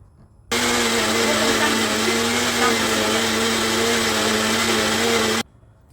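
A kitchen blender whips banana, cocoa, baking powder and two eggs into a flourless brownie batter, a loud, steady motor whine with a constant hum that starts suddenly and runs for about five seconds before cutting off.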